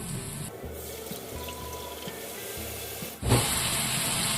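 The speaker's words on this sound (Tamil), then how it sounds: "இப்போ நம்ம இந்த கொடுவா மீன் குழம்புக்கு தேவையான புளி தண்ணி சேர்க்க போறோம்" Tamarind water pours into a pot of sea bass fish curry under a low hum, then a loud, steady sizzling hiss suddenly rises and continues.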